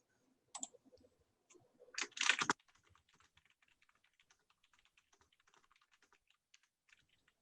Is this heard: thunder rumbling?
no